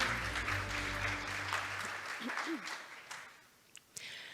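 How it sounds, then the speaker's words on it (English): Applause from a conference audience at the opening session of an international development conference. Clapping fills the first half under a low hum, then thins and fades away as a few voices and faint noises remain. "please give him another round of big applause"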